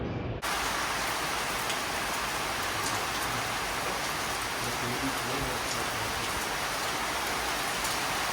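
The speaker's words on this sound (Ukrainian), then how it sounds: "почалася сильна злива" Heavy tropical rain pours down on Koh Samui, Thailand, in a dense, unbroken hiss, loud and steady throughout.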